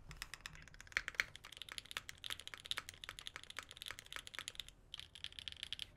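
Fingers type quickly on a mechanical keyboard with light switches and a loud space bar, giving a fast run of crisp, close clacks with brief pauses.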